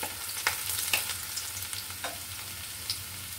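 Garlic sizzles in hot oil for a water spinach stir-fry, a quiet continuous frying hiss broken by a few sharp crackles and pops, with no talking.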